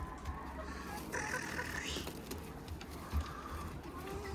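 Faint clucking from chickens and a rooster, including ornamental İspenç chickens, in a noisy outdoor setting, distant and low against background hiss.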